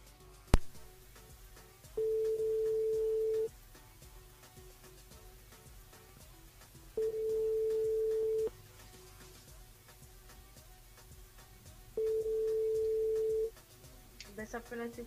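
A telephone ringing tone sounds in three long, steady beeps spaced evenly apart while a radio host places a live call to a listener, with faint background music and room noise between the tones.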